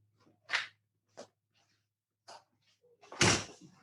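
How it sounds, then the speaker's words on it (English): An office door is pushed shut in a quiet room, with a few soft knocks and shuffles first and a firm close near the end, heard up close. "I gotta make sure my door is shut to my office"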